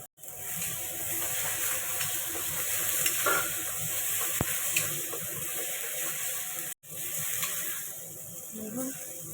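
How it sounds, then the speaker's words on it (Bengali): Spice paste fries and sizzles in a pan for a vegetarian jackfruit and potato curry, a steady crackling hiss with intermittent scraping stirs, close and continuous. "মশলাটা ভালো করে কষিয়ে নেব।"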